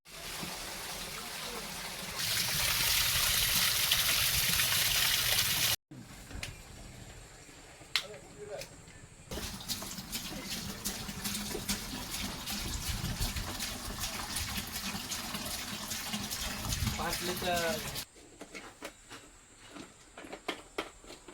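Liquid coolant is poured into a red container during a bus cooling kit repair, heard as a steady rushing hiss in bursts with short breaks and faint handling noises between them.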